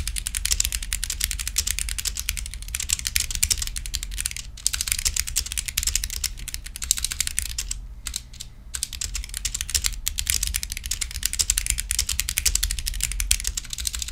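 Rapid clacky typing on a Womier K87 mechanical keyboard fills the clip, dense and close, with a couple of brief pauses, no voices.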